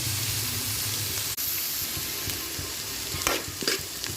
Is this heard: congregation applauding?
no